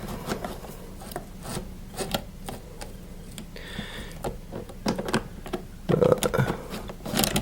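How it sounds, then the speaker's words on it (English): A screwdriver backs a screw out of the board inside a Wertheim 5035 vacuum cleaner while its motor is being replaced: faint, close scraping and scattered small clicks, with no one talking. "this one you've got to slide all the way up under this part of the board, and it's undoing that screw there"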